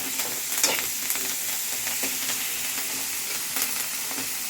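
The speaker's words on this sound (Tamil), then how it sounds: "கருவேப்பிலை கருவேப்பிலை நல்லா வதங்கணும்" Curry leaves sautéing in a pan give a steady, close sizzle with faint scrapes of stirring, no voices.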